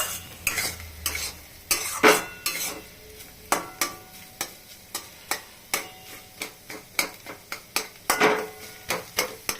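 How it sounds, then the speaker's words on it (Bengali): A spatula stirs cauliflower and egg bhujia frying in a pan, making a steady sizzle under repeated sharp scraping clicks against the metal that come in an irregular rhythm close up. "এখন একটু সময় আর একটু ভাজতে হবে"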